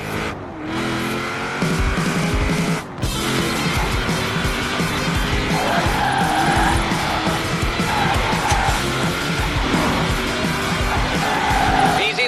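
Tires squeal and skid as a car drifts through turns in Forza Horizon 4, a loud sustained screech over engine roar, with game crowd noise behind.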